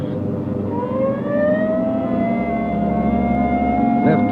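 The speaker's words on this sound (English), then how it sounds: "Hit the siren." A police car siren wails with rising, sweeping tones over a rumbling vehicle engine, loud and close, steady throughout, in a classic radio drama.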